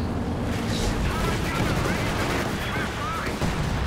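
A Brummbär assault gun shell exploding in the Company of Heroes 2 battlefield, a dense rumbling blast and crackle of gunfire filling the whole stretch, with a commentator talking over it.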